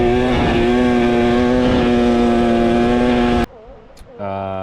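A KTM 300 XC TBI two-stroke dirt bike engine revs hard and loud up close for about three seconds, buzzing with strong harmonics, then cuts off abruptly before a lower steady idle-like drone resumes.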